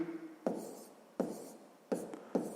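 Pen or pencil writing out a sixth-grade percentage math solution on paper, a few soft scratchy strokes in quick irregular bursts, close and quiet, with no voice.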